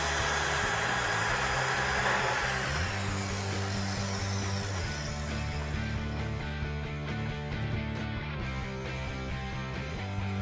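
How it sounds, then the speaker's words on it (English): Festool TS 55 plunge-cut circular saw cuts without dust extraction, giving a steady, fairly loud whirring drone with tonal shifts as the blade works through the material, and no voices. "Look at how much dust and debris results without using dust extraction."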